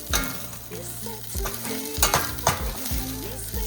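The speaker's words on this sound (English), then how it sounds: "I've been sauteing this for almost 5 minutes now" Okra sautés in a pan after several minutes of cooking, a continuous close sizzle with repeated scraping and stirring strokes of a spatula, bright clacks against the pan near the middle.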